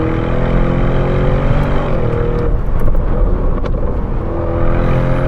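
Novitec Lamborghini Urus S Esteso widebody engine droning steadily while driving, a loud continuous close rumble with no break throughout.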